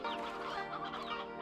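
Chickens in the video game Slime Rancher 2 cluck steadily and densely, a close, continuous clutter of overlapping clucks with no speech.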